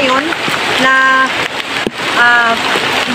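Heavy rain falls on leaves outdoors, making a continuous broadband hiss that runs the whole time. A voice talks over it almost throughout.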